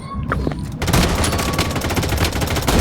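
Loud, dense automatic gunfire from the shooter game Blood Strike, with an AK rifle in use, bursting in after a brief quieter moment and continuing as a rapid, near-continuous volley.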